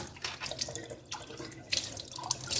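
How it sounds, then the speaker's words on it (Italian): Hot water running from a tap onto a sponge, a steady close splashing flow with small spattering bursts throughout, no voices. "Ora con acqua calda e una spugna"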